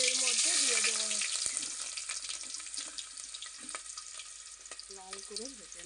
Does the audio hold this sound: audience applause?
no